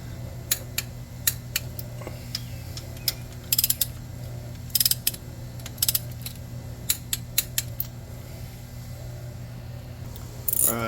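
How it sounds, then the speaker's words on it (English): Ratchet torque wrench tightening the oil fill bracket on a 2020 Chevy Express 3500 6.0L van engine: a long run of sharp metallic clicks, some single and some in quick bursts, close and distinct over a quiet garage hum, with no talking. "I'm going to torque the oil fill bracket here"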